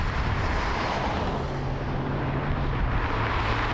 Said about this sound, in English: This is Southwest Flight 1286, Las Vegas to Ontario, California, ONT.